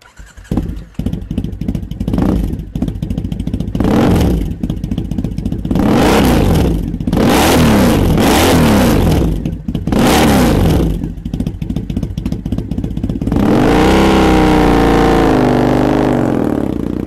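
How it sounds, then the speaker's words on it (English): A 2014 Triumph Bonneville parallel twin with a British Customs 2-into-1 exhaust starts up, then idles with a deep, lumpy throb and is revved in repeated loud blips, ending in a long sustained rev, close and loud. "This pipe really brings out the Bonnie's proper English growl."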